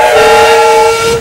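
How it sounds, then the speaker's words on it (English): Several steam locomotive whistles sound together in a loud chorus, one sustained, close blast lasting just over a second. "after a loud chorus of whistles"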